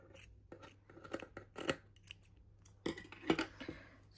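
Scissors cutting through a crocheted motif bag, a series of close, crisp irregular snips and crunches in two clusters separated by a short pause, heard alone.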